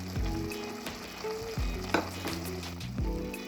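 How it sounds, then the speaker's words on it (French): Potatoes go into a pot of leek soup with a few distinct thuds and clatters over a quiet, steady sizzle in the background. "J'ajoute les pommes de terre."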